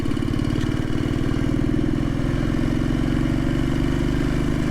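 A Royal Enfield Bullet 500 single-cylinder engine thumps steadily while riding on small roads, a close, low, pulsing beat held at an even pace without a break.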